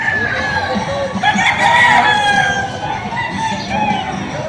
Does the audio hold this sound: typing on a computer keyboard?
no